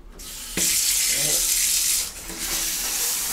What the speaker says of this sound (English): Okay, got a nice shower.